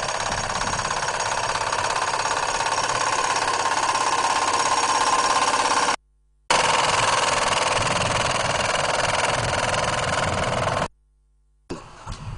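A multi-purpose power tiller used for weeding in a garden has its engine running steadily and loudly. The drone cuts out twice briefly, then resumes with a rough, continuous rumble.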